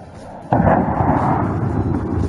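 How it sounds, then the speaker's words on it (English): Aircraft-fired rockets strike a target convoy on the Pokhran desert firing range, a sudden loud blast that becomes a sustained, deep, rumbling roar, heavy and distant-sounding, with no voice over it. "Rockets away!"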